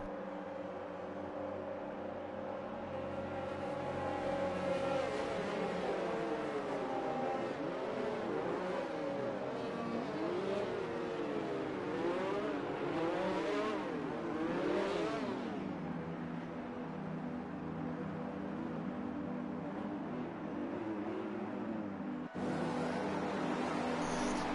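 Formula 1 race cars in a video game idle and rev on the starting grid at the Australian Grand Prix, with high-pitched engine whines rising and falling in overlapping sweeps, continuous and fairly loud, without talk.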